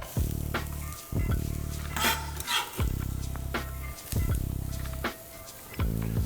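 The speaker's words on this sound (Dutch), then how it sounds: "Dan doe ik de shallot erbij." Chopped shallots sizzle loudly in a hot pan with toasted seeds, broken by repeated scrapes and clinks of a utensil stirring, the frying hiss dropping out briefly between strokes.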